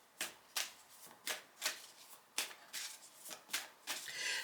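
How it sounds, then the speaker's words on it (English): Oracle cards being shuffled by hand, a quiet, close series of about a dozen crisp riffling flutters in an uneven rhythm, with no voices. "let's go to the Oracle cards"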